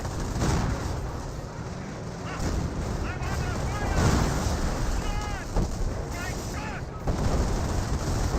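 Creeping barrage artillery in Company of Heroes lands as repeated booming impacts and rumbling explosions, heard beneath continuous excited commentary from a caster.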